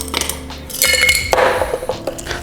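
Ice cubes clink and clatter into a cocktail glass while a margarita is being made, several sharp bright knocks and rattles close up over a couple of seconds.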